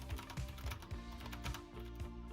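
Clicky mechanical switches on an Azio Retro Classic Bluetooth Artisan vintage-style backlit keyboard clatter in a steady run of close, crisp keystrokes with no voices.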